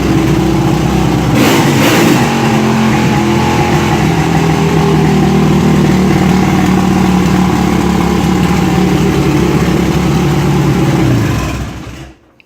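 A Kawasaki KLX650R motorcycle engine, left unstarted for at least four months, fires up and revs loudly and close by, holding a steady rough idle with surges before cutting off near the end.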